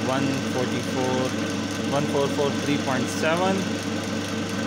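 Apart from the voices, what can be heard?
single phase capacitor run induction motor running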